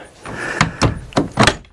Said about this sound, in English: Guess we could open the other door.